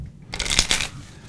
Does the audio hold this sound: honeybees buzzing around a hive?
no